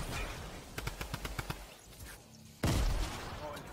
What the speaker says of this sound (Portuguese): Estou a ouvir todo o tiro, mas tanta bala.